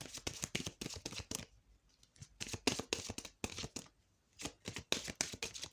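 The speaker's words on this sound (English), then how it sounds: "I'll be shuffling that mostly off camera, but I will start the shuffling here." A Queen of the Moon Oracle card deck is shuffled by hand, with close, crisp bursts of riffling and sliding cards in quick runs separated by short pauses.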